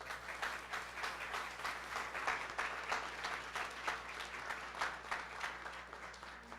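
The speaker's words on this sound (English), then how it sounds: "So I think they deserve a round of applause." A room of people applauds at a school board meeting, the clapping soft and somewhat distant, with steady overlapping claps over a low hum.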